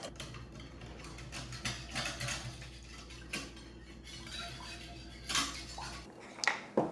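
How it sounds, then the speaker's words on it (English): A whisk or spoon clinks quickly against a bowl while mixing a sriracha sauce, a run of light metallic taps and scrapes, close and fairly quiet, with a couple of louder clanks near the end. "Give this a whisk."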